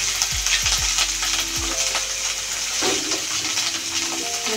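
Ginger paste hits hot oil in a pan alongside a ground cumin and coriander paste, giving a loud, continuous sizzle and fry with a few brief stirring knocks near the start.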